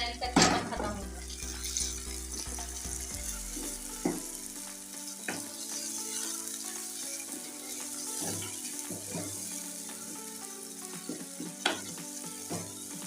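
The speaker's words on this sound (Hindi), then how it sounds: "इसको अच्छी तरह भूनेंगे कीमे को ताकि उसका कच्चापन खत्म हो जाए।" Minced meat keema frying with ginger, garlic and onion in a pan, a steady close sizzle with occasional stirring scrapes and clinks and a louder burst near the start, with no talking.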